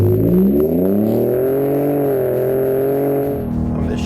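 A 2017 Ford F-150 Raptor with a turbocharged engine pulls hard under acceleration, its loud engine note climbing and shifting pitch while a high turbo whir holds steady, with no voices present.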